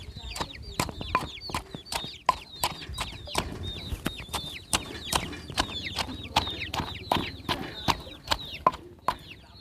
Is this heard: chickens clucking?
yes